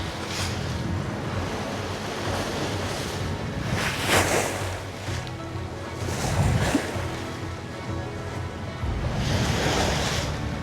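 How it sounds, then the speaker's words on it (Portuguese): Large open-ocean swells roll and break around a sailboat on a passage to Fernando de Noronha, a steady roar of surf and wind noise rising in three broad surges, close and loud with no talking. "Umas ondulações muito grandes de água"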